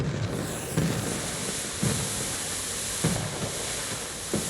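Fireworks in the video game Infinity Nikki give a continuous crackling, hissing wash broken by soft, muffled pops about once a second.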